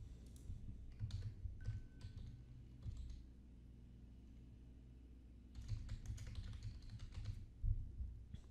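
Two bursts of rapid typing on a computer keyboard while entering a form name, close and crisp, with a quiet pause of several seconds between them.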